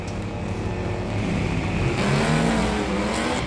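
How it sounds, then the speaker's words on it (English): A 2006 Dodge SRT-10 stick-shift pickup launching down a drag strip, a loud sustained engine roar with revving that swells after the first two seconds, heard close and continuous with no talk. "Jeremy Grove in the SRT 10 stick truck. 2006 SRT 10"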